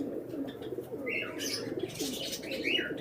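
Pigeons cooing softly nearby, with a few higher chirps and a brief flutter over a low murmuring background.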